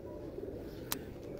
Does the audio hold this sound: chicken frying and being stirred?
no